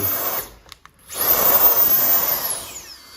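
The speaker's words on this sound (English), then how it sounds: "But let's just turn one on here." A compact electric air duster blower switches on after a short pause and clicks, then hisses and whirs with a strong, steady rushing airflow, close by and loud.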